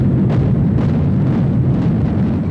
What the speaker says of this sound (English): Small amounts of explosives strategically placed and detonated in sequence.